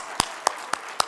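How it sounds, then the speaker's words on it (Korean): Four separate sharp claps, spaced about a quarter second apart, ring out in a quiet church during a New Year worship service, a slow and sparse beat rather than full congregational applause. "우리 모든 지체들을 인도하실 하나님께 다시 한번 영광의 박수 올려드리겠습니다."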